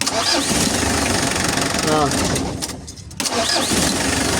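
A car engine with newly replaced piston rings, previously suffering blowby, turns over and catches quickly, then settles into a steady running hum with background noise throughout.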